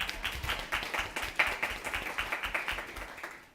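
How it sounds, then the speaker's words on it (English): A small audience at a school district board meeting claps in a brief, rhythmic round. The individual claps are distinct and fairly close, spread over about three seconds. "That's where we clap, y'all, because that's a big deal."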